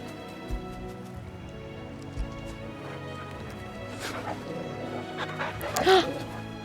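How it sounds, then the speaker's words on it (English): A dog in the video game Final Fantasy XVI whimpers and gives a few soft yips and barks over a quiet game soundtrack, with brief louder cries near the end. "I told you to pet your dog."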